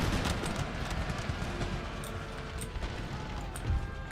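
Massed cavalry charging in Empire: Total War, horse guards riding into line infantry: a dense, continuous rumble of hooves mixed with battle clatter and scattered gunfire, steady and loud throughout with no clear individual beats.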